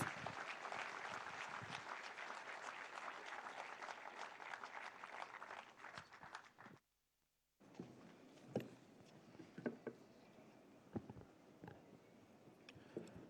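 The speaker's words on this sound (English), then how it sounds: "Would you please greet him with a strong round of applause, please?" A large audience at a CSK function in Tamil Nadu gives a strong round of applause, dense and sustained before a short gap, then scattered individual claps follow.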